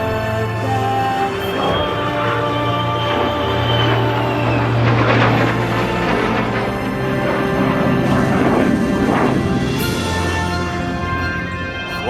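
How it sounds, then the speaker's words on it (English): A World War II era P-38 flies in formation with a U.S. Air Force F-35A Lightning II at an airshow in Oregon, producing a steady, loud, sustained engine roar that holds throughout with slight swells. "Flying in formation today is a World War II era P-38 Mustang"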